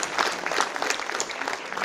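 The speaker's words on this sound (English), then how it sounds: "A big round of applause as we welcome him." A crowd at a Tuberculosis Day 2021 event in India gives steady, brisk clapping as a health minister is welcomed, the applause continuing without a break.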